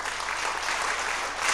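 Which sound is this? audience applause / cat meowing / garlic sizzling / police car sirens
audience applause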